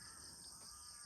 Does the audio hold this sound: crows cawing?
yes